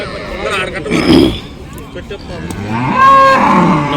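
Cows at a weekly cattle market in Punganur, where dairy and pregnant cows are sold, give close, loud, drawn-out moos and grunts while people talk nearby.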